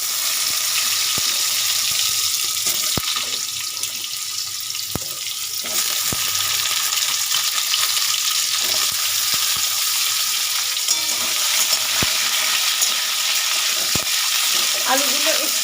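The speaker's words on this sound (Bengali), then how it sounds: "এবার আমি আলুগুলো দিয়ে দেবো।" Potatoes frying in oil in a pan, cooked with asafoetida as the start of a Bengali pumpkin chhokka, give a steady close sizzle with occasional sharp clicks of stirring throughout, with no talking.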